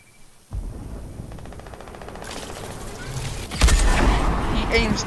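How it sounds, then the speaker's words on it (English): Rapid bursts of gunfire with a heavy blast in a battle royale video game, loud and dense, building toward a louder final volley under talking. "He aims to kill and hits his shot."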